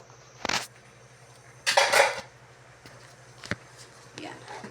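Sautéed taro dumped into a cooking pot, giving a short clatter of utensils against the pot, with faint clinks before and after and soft talk nearby.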